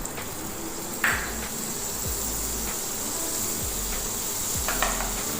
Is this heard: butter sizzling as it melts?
yes